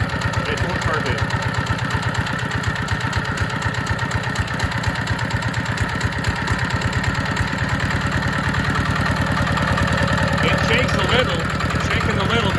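A ZR185 Chinese single-cylinder diesel engine idles after a cold start on a light mount, thumping in a fast, regular, loud beat while someone talks over it.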